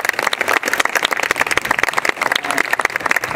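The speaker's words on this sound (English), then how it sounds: "round of applause for them again." A crowd at a university rally for undocumented students claps in a lively round of applause, with sharp individual claps audible in a close, uneven patter and no talking.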